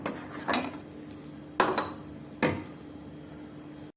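A utensil stirring ground paste into cucumber and pumpkin kuzhambu in a pot, giving three separate metallic clinks and scrapes with quiet gaps between them.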